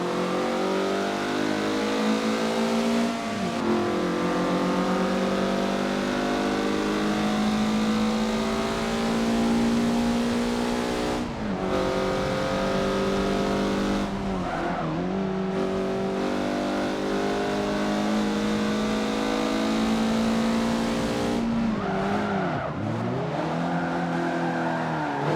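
Mazda MX-5 Cup race car in a Forza Motorsport 7 race, its engine droning loud and steady at high revs, with a few sharp dips and blips around downshifts, no voices.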